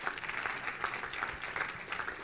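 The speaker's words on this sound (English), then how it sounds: "Oh, clap your hand for me." A church congregation at a prophetic night service in Accra claps hands in a steady, rhythmic pattern, a fairly faint and distant wash of many hands keeping time together.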